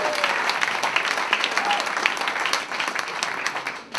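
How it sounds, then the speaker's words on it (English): Comedy club audience at a stand-up show applauds steadily, a dense wash of many hands clapping, loud and close, tapering slightly toward the end. "Thank you for the applause."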